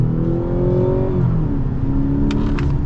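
Mazda CX-70 engine revving loudly under acceleration, with a rising tone that breaks off at a gear shift near the middle and then resumes lower and weaker, heard from the cabin with no talk.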